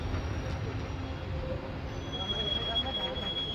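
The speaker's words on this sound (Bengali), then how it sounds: "রাত 1:15 নির্ধারিত সময় থেকে 12 মিনিট দেরিতে ট্রেন এসে পৌঁছালো বোলপুর শান্তিনিকেতন" The Gour Express pulls in at Bolpur Shantiniketan station at night, a low rumbling roll with a thin high wheel squeal drifting above it, moderately loud and continuous.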